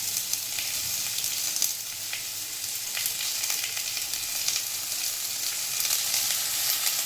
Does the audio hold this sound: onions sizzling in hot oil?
yes